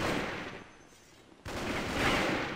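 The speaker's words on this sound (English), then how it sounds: "Oh, I was shooting at the wrong guy." Gunfire in the shooter game Counter-Strike: a short burst of firing, then a brief lull before a louder second burst of shots, heard close with no talking.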